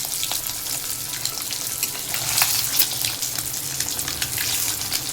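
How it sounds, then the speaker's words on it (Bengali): Egg coated with salt and turmeric frying in a pan, a steady, close crackling sizzle with bright popping spatters throughout, no voices. "এই তো ডিমটা ভেজে নিচ্ছি বন্ধুরা।"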